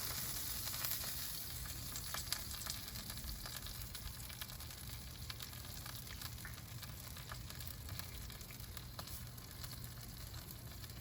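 Sauced BBQ ribs sizzle steadily on a barbecue grill while the sugary sauce caramelizes, a soft, even crackle with faint pops that never lets up.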